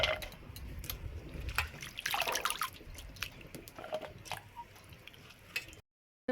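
Long-cut potatoes are strained out of their soaking water, giving a close, busy run of trickling, splashing and dripping that stops abruptly at the end, with no talking.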